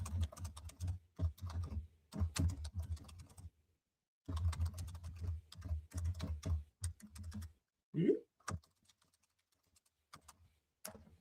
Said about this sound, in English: I'm not even typing in the right thing